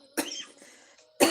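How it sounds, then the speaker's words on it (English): Two sharp single coughs from a nearby person, separated by about a second of quiet with a faint tonal voice sound between them. "There's cough, y'all."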